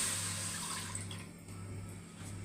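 A cup of milk pours into a cooking pot with a soft, steady splashing stream that fades after a moment into faint trickling over a low hum.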